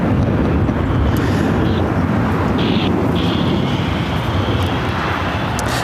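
An American Airlines Airbus A321 jet on Flight 32 roars at LAX, a steady, broad engine rush with wind buffeting the microphone and faint high whines near the middle.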